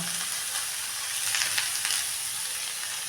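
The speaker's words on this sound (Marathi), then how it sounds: "इथे मी कांदा ठेवलेला आहे परतवायला" Chopped onion fries in a hot pan for a village-style vegetable dish, giving a steady, close sizzle that crackles a little louder midway and carries on with no talking.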